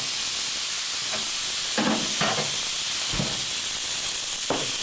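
Apple slices for an apple crumble sizzle in a hot pan, giving a steady, bright hiss throughout with a few soft knocks and clatters as the pieces are moved around.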